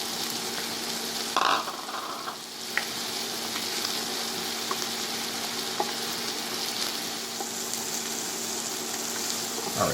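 Mushrooms and onions fry in a pan with a constant close sizzle, broken now and then by a few light clicks and scrapes of stirring, and no talking.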